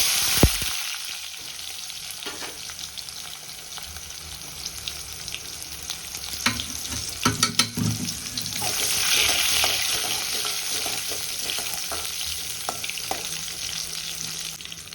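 Shallots and slit dried red chillies sizzle in hot oil for spinach keerai kadaiyal, a steady close frying hiss with scattered crackles and stirring clatter.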